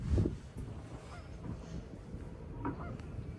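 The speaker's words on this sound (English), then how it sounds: "these Canada geese or ducks that are also over here in Horseshoe Lake" Canada geese honk faintly in the distance at Horseshoe Lake, a couple of short calls over a low rumble of wind and outdoor background noise.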